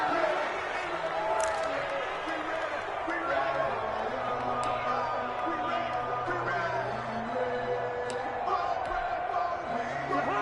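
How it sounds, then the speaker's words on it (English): A stadium crowd in a PS4 American football game with the Vikings fills the background with a steady, even murmur of crowd noise. Commentary is heard over it throughout. "The crowd may be losing just a little bit of the edge after back-to-back punts."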